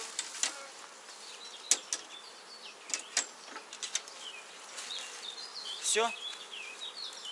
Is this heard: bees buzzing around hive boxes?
yes